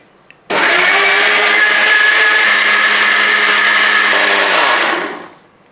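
An electric kitchen blender whirs loud and steady for several seconds, blending ripe plantain banana with milk and sugar, then winds down to silence.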